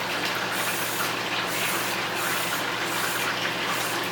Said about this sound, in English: all you have to do is spray it on your dishes.